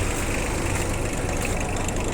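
A mini tractor's engine idles steadily close by, a constant low, even rumble with no breaks over the short stretch.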